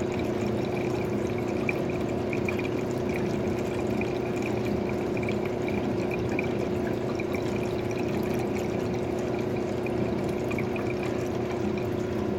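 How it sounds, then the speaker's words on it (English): Water runs steadily through a sluice while a fan hums alongside, a constant even wash with a faint tonal whir and no pauses. "Sound of the water. And now the all-new sound of the fan."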